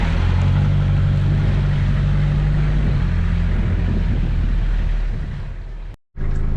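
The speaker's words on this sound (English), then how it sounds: "So I'm gonna chuck it into first gear, I'll let it crawl straight, and we'll just follow it through the mud" A Toyota Hilux with a rebuilt front differential crawls in first gear through mud, its loud low engine drone steady and close with wind buffeting, cutting out abruptly near the end.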